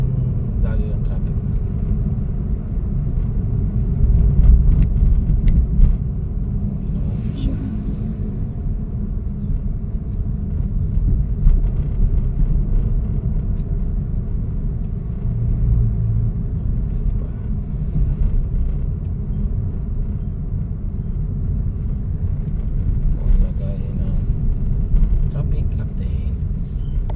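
Road traffic on JP Rizal in Marikina City at night during Typhoon Enteng: a continuous low rumble of passing cars and engines with louder swells now and then. Voices seem to occur intermittently over the traffic.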